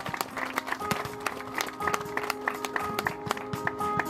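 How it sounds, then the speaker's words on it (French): Scattered audience clapping for a musician at an outdoor Game Fair shooting show, sharp uneven claps over a steady tonal musical background. "On l'applaudit bien fort, s'il vous plaît"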